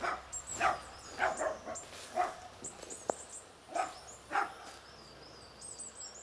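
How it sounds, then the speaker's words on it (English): Small dog barks repeatedly near a house beside an old graveyard, a string of sharp yaps at moderate distance with birds chirping faintly in the background. "Some little dog, not happy, that I'm next to his house."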